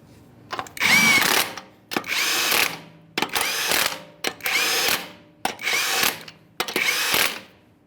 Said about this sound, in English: Start on all 6 of your 21mm lug nuts, we'll bottom this out.